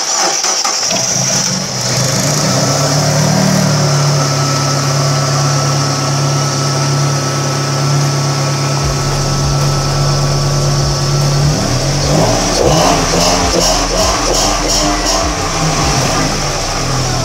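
Kia Carens car engine cranking and catching after injector cleaning, then running with a steady low idle hum and rising into a few rough revs near the end, close and loud.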